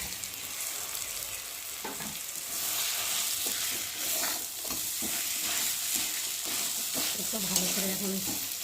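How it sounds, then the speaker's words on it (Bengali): Mashed potato and rohu fish, mixed for fish chops, fry in oil and spices in a pan, giving a close, steady sizzle broken by the scrape and clatter of stirring. "এখন আমি আলু আর ঝিমে মাখাটাকে এখন দিয়ে ভালো করে ভেজে নেব"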